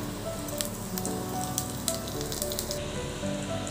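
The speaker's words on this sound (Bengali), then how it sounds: "ফোড়নটা আমার লাল করে ভেজে নিয়েছি" A dried chilli, bay leaf and cumin fry in white oil in a kadai, giving a dense hissing sizzle dotted with sharp pops and crackles, close and even throughout with no talking.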